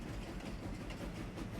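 A train rolling across the map in the Farming Simulator 25 video game, giving a steady, dense rumble with a faint rhythmic clatter, continuous and fairly quiet.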